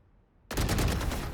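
Gunfire in a Valorant-style deathmatch on the Split map: after a short near-silence, a rapid automatic burst of closely spaced shots erupts loud and dense, continuing to the end.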